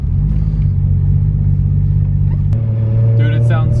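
RB26-swapped Nissan Skyline R33 with a rich-running engine, a loud, deep exhaust drone and rumble close by while the car drives, with a brief rise in pitch near the end and people talking over it.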